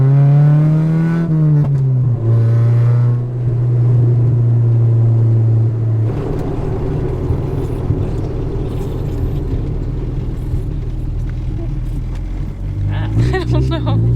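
A Honda Civic EF fitted with a B18A1 engine drives along, its engine a loud, steady low drone that dips in pitch near the start and rises again toward the end, with a voice briefly audible over the engine noise.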